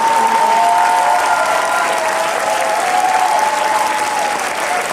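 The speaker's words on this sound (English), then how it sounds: "stand up and just give these guys a huge round of applause" Standing audience at a wealth-goal team event gives a huge, loud round of applause, dense sustained clapping with some crowd cheering mixed in, tapering slightly toward the end.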